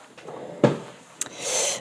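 Small desk drawers slide open with a sharp wooden knock followed by a softer click and a longer rubbing slide, close and fairly loud in a quiet room.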